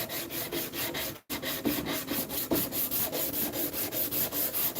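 Rhythmic back-and-forth rasping of 100 grit sandpaper on a carved wooden cane repeats in quick, even strokes, close and fairly loud, broken once by a brief pause.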